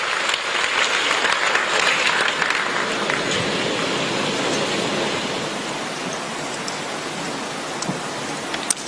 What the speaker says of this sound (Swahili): makofi mengi sana sana